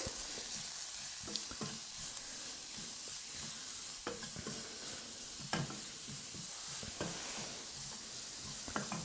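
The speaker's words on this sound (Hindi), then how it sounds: "और अब हम सारी चीज़ों को अच्छे से भूनेंगे" Grated cauliflower and peas with spices and salt sizzle in a pan, with steady frying hiss broken by scraping stirring strokes at close range, and no talk.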